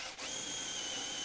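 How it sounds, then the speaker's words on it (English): A steady, high-pitched whine of a power drill boring a hole through a barn door, running continuously, close by, with a brief dip at the start and no voices. "You want to make sure that you're really careful when you're drilling here"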